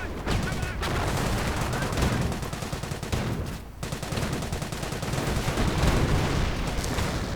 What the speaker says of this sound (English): Light machine gun fire being exchanged. And the British artillery firing away again and again.